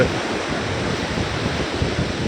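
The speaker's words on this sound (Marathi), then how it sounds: "आम्ही जेव्हा दहानचा समुद्र बघतो खूप सुंदर नजारा आहे" Sea waves wash onto the shore at Dahanu in a continuous, loud surf roar mixed with wind buffeting the microphone, with no voices.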